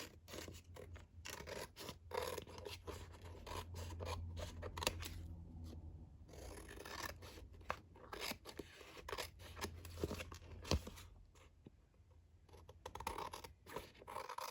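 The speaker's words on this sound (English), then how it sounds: "I have some cardstock left over on all the sides, so I'm just gonna cut it off" Scissors snipping away leftover cardstock edges for a 6x6 Christmas mini album, a close run of crisp cuts and papery scratching with short pauses between strokes, no talking.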